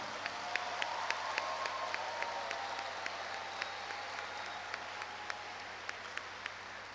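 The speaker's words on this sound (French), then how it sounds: "applaudissons-les" A crowd applauds graduates at a UNIFA university ceremony steadily, a dense wash of clapping with a few individual claps standing out, sustained throughout.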